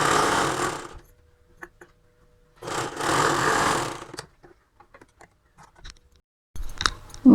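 Sewing machine stitching a saree blouse, two bursts of steady whirring a second or so each, separated by quiet handling clicks and taps, close and with no talking.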